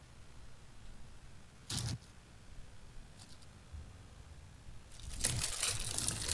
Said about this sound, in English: What are you munching on?